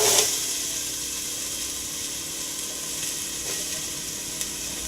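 Chopped onion sauteing in about a tablespoon of olive oil in a pan: a steady, close sizzle that flares briefly at the start as the onion goes in, then settles into a constant even hiss.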